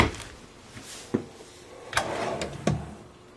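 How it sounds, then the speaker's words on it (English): Drawers with roller bearing glides in a 2013 Heartland Landmark Mesa RV slide open and shut, giving a few close, distinct bumps and soft rolling slides spaced across a quiet room with no talking. "All of the drawers, roller bearing glides in those."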